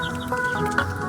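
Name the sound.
chickens clucking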